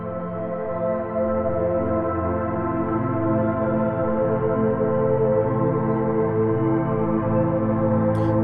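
A deep ambient atmospheric synth pad built in Ableton from stock devices sustains a rich, layered chord, evolving slowly and evenly with no pauses, ending in a faint high shimmer.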